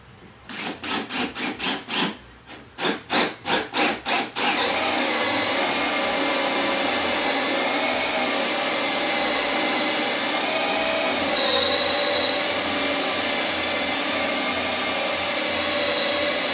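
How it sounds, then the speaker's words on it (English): A power tool starts with a few short, stuttering bursts, then runs at a steady, loud whine for more than ten seconds, with a slight dip in pitch near the end. "That's where I'm drilling, right in the middle."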